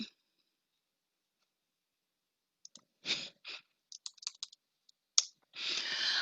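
A computer mouse clicks a few times, sharp close clicks, followed by soft rustling and handling noise in a quiet room.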